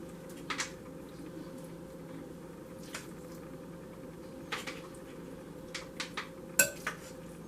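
Meat filling is spooned into bell peppers, with faint, sparse clinks and taps of a spoon against a dish over a low room hum, quiet and close.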